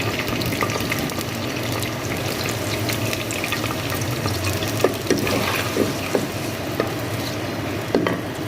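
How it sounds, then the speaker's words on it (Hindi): Finely chopped onions frying in hot oil in a cooking pot, a steady dense sizzle with occasional stirring clicks and scrapes near the end, no voices. "प्याज को हम सुनहरा होने तक भून लेंगे।"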